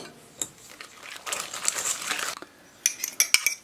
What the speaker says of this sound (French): on va venir ici battre les œufs, donc rapidement avec la fourchette